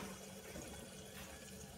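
Water is poured over soaked soya chunks to rinse them, making a continuous, fairly soft splashing and trickling sound with no talking over it.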